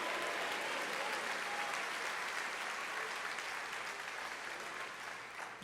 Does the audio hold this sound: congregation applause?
yes